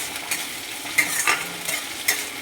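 Pieces of katla fish fry in hot oil in a pan with a steady soft sizzle, while a few louder stirring scrapes come through at intervals, close by and with no talking.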